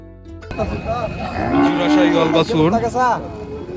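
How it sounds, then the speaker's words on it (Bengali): Sahiwal and Friesian cattle at the Muktagachha Chechua cattle market give a loud, close, drawn-out moo lasting several seconds, with a second lowing call rising near the end over faint market background. "আমি আজকে আপনাদেরকে দেখাবো শাহিওয়াল ও ফিজিয়ান জাতের গরু"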